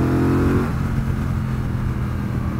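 A Triumph Bonneville Bobber 1200 motorcycle engine runs loud and close, a deep steady drone that shifts pitch partway through as the rider changes speed, continuing without pause.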